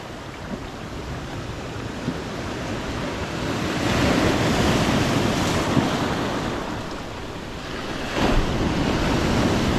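Ocean waves breaking on the shore during bass fishing from the beach: a steady, loud roar of surf and rushing water with wind buffeting the microphone, swelling as a larger wave comes in midway and again near the end.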